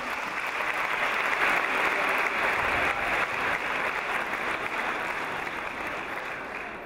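Sustained audience applause at a live concert fills the hall, dense and even in loudness from start to finish with no voices over it.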